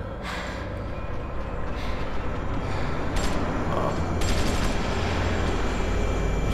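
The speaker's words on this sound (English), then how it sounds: "There's gunshots everywhere." A dense wash of rapid gunfire and chaotic action sounds in the video game The Walking Dead Season 2, steady and loud throughout, with bursts of shots layered over a constant rumbling background.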